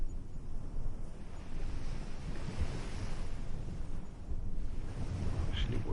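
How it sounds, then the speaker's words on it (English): Ocean waves wash onto the shore in a soft, continuous rushing swell with gentle wind, moderately faint and alone without voices. "there's nothing more to hear. Only the waves"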